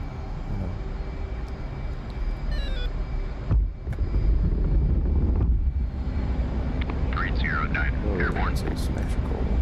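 Twin jet engines of an F/A-18C Hornet spooling up in a flight combat simulator, a steady loud roaring whine broken by a brief dip, with talk over the engine noise.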